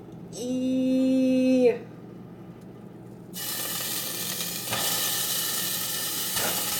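Loose chorizo sausage meat for chili hits a hot frying pan and settles into a steady, loud sizzle and hiss after a brief electronic beep, with no one speaking.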